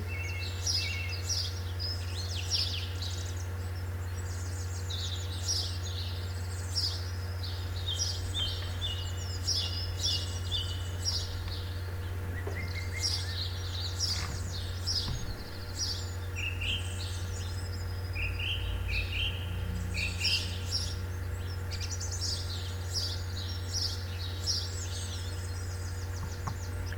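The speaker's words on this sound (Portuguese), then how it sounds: "O que vocês acabaram de ouvir aqui foi o canto dos pássaros." Several birds sing and chirp in repeated bursts of high twittering song over a steady low hum, the calls continuing through the whole stretch at moderate distance with no talking.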